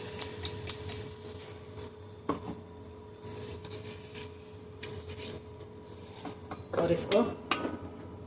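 A spoon stirs ground dried ginger and chili powder into a little ghee in a pan on a switched-off stove, giving a run of quick metallic taps, then scattered clinks and scrapes close by. A voice speaks briefly.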